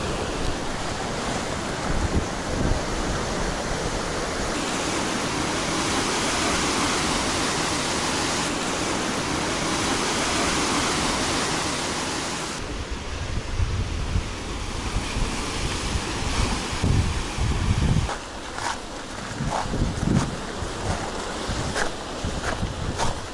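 Big ocean waves crash and surge against a red sand beach of small rocks, a loud, continuous roar mixed with wind buffeting the microphone, with the surf breaking and washing in repeated bursts.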